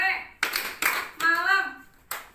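Children clapping along in a classroom chant, sharp group claps spaced apart between bursts of sung or chanted voices, close and lively.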